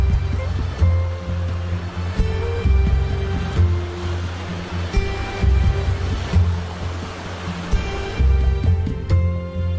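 Surf rolls onto the seashore of Bali on the Indian Ocean in a continuous, near wash of waves, with a steady low tonal hum running underneath.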